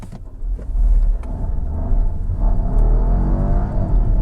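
Volvo XC40 T5 Recharge plug-in hybrid SUV with its 262-horsepower petrol engine accelerating hard, a loud steady engine roar and whir building under full throttle with no talking.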